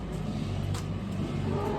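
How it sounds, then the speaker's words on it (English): A faltering truck engine on a cattle operation, running rough with uneven surges and dips in its low drone, fairly close and without speech. "truck is having a stroke or something"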